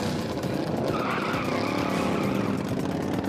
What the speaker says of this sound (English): They start life as a lawnmower, but they are purpose-built race machines.